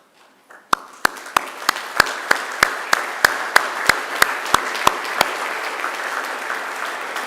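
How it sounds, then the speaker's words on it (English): An audience at a university graduation ceremony at Macquarie claps, starting with a few sharp claps and building into steady, full applause that fills the hall. "please stand now and turn to the people behind you and to the side and to give them a round of applause in thanks."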